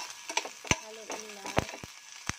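Garlic, red pepper and ginger being stirred in hot oil in a pan, with a few sharp scraping knocks and a light sizzle, close and fairly quiet, with a faint voice-like tone in the middle.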